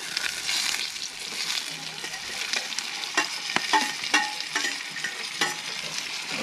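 Yellow onions fry in a pan in a rural Nepali village kitchen as they are stirred, giving a steady sizzle broken by scraping strokes and clicks of the utensil against the pan. The sound is close, with brief murmured talk.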